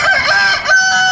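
A rooster gives a single loud, close crow, a drawn-out call with a short dip in the middle before it rises again and holds to the end.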